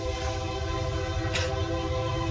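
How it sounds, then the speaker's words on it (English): A train passing after a storm, its steady low rumble and droning horn tones sounding throughout, with a brief hiss partway through, no voices. "I've always liked the train, like just the little rumble of it."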